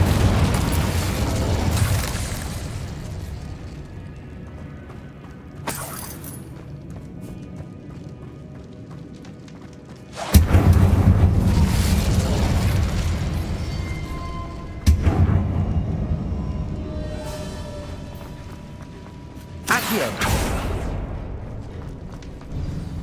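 Fiery blasts from the Incendio spell hitting a barricade in the Hogwarts Legacy video game, several loud, sudden booms spaced a few seconds apart, each fading into a crackling rumble.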